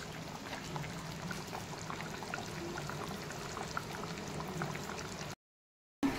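Mustard oil pours into a pan in a steady, even stream, a close continuous liquid rush with a faint sizzle that runs for about five seconds before cutting to silence.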